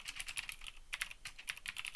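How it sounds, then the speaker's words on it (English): Close keyboard typing on a computer while filling in a text field, a steady patter of crisp, rapid key clicks over two seconds, alone without speech. "you can type in a score explanation"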